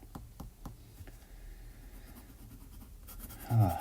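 A Kaweco Perkeo fountain pen scratches lightly across paper in a few quiet, close strokes, then ends in a louder handling bump.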